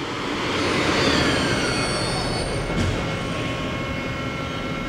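A steady whirring roar of a Mori Seiki NL-3000Y CNC lathe spindle spinning at 2,000 RPM, with faint high squealing tones and a brief clunk partway through.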